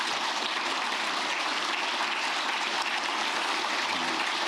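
Steady, dense applause from an audience of public officials in a hall, a continuous close wash of clapping holding an even level throughout with no voices on top.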